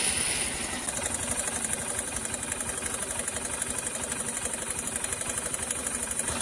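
A Honda SP 125 motorcycle with about 14,500 km, its engine running with an abnormal sound: a steady rhythmic ticking, knocking idle close to the microphone, with a faint high whine above it and no talk.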